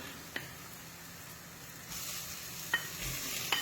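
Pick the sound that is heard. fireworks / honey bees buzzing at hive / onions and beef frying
onions and beef frying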